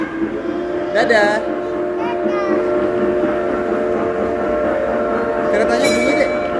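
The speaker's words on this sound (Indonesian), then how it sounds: "Keretanya bunyi deh." A passenger train sounds a loud, steady tonal horn that carries on through the clip over a rolling rail rumble, heard from close by with faint voices around.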